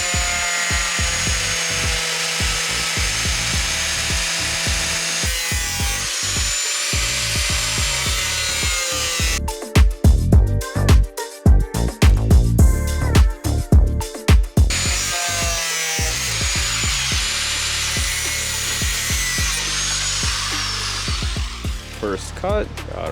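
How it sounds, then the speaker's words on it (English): A Mastercraft power tool cuts through a Tesla Model 3 body panel with a loud, continuous grinding whine, interrupted midway by a burst of rapid rattling, choppy cutting before the steady cut resumes, all close and without talk. "So we're gonna be following this exact line, and we're gonna cut it up."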